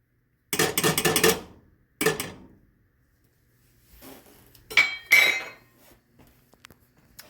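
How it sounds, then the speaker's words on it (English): Half a cup of dried elderberries tipped into a pot for syrup, a dense rattling pour followed by a short second spill, then faint clinks and a few scattered taps of kitchenware. "what I want to do first is add my elderberries, which is about a half a cup"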